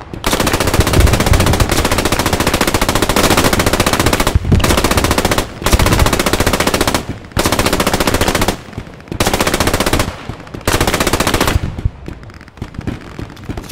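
Long sustained bursts of machine gun fire in a World War II Post Scriptum battle, very loud and close, rapid continuous rounds broken by short pauses between belts, ending in quieter scattered shots.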